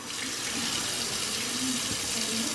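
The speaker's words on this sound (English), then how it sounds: "When you're not using the water, make sure you turn it off, okay?" A kitchen tap pours a steady stream of water into a sink, a constant, close rushing hiss that stays even throughout without pauses or voices.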